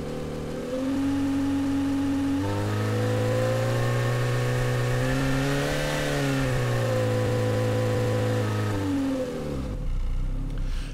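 A simulated car engine from the AudioMotors v2 Pro plugin revs up and down in smooth sweeping waves, holding a steady loud drone for about nine seconds before cutting off, with no one talking.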